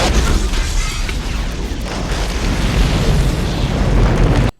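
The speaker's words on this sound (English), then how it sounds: "Between the crash, the explosion, and a severed thumb, they assume she's dead." A large explosion from the science-fiction film Species, following a high-speed car chase and crash in the hills, rendered as a loud, sustained roaring blast with dense rumbling and debris across several seconds before cutting off abruptly.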